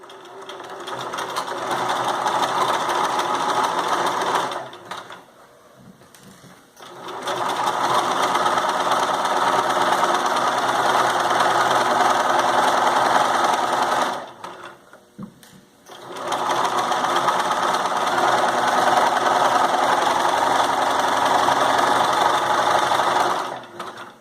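A sewing machine stitches the side and bottom seams of a fabric drawstring bag in three long, steady, loud runs of rapid rhythmic whirring, broken by two brief pauses.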